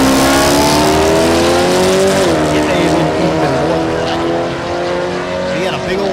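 A drag race car launches down the strip at Thunder Valley in Noble, Oklahoma, its engine a loud, sustained roar that rises and then dips slightly, with an announcer talking over it throughout.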